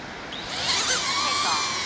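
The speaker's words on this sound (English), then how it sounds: "So I'm just gonna send the drone up." A DJI Neo 2 drone lifts off over water on a windy day, its high, rising whine climbing in pitch and growing louder over a steady wind hiss, with no talk.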